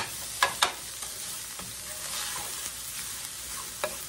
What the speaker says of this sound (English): Stir this meat around. We want to get it nice and brown.